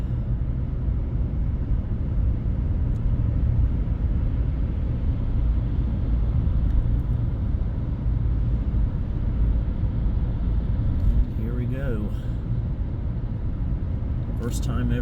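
A car driving along the Monroe Expressway toll road in Monroe, North Carolina, with a steady, loud low road and engine rumble throughout, and brief faint sounds near the end.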